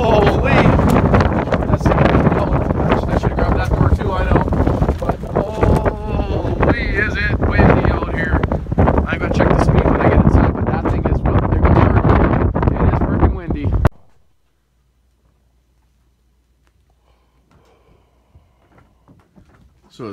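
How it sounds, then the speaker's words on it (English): Strong outdoor wind roars and buffets the microphone heavily for about fourteen seconds, loud and gusty, then cuts off abruptly to near silence. "Oh, here's the wind. Here's the wind coming."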